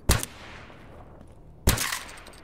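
Two loud, sharp gunshots about 1.5 seconds apart from a firearm in STALKER Anomaly, each a broadband crack with a ringing tail, and a quieter stretch between them.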